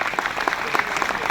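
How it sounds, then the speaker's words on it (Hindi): Applause from a theatre audience greets cast members as they are introduced for a Mahabharat stage production, steady dense clapping throughout with a few louder peaks and a faint voice underneath. "जोरदार तालियां, तालियां रुकनी नहीं चाहिए"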